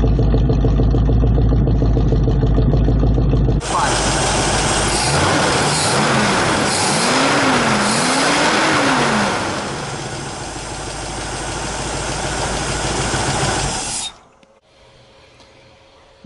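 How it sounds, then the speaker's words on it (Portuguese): A warmed-up Ford Maverick V8 idles with a deep, lumpy rumble, then gets louder and rougher for about ten seconds with engine pitch rising and falling, before dropping abruptly back to a quiet low idle. "Bom, o motor já está quente,"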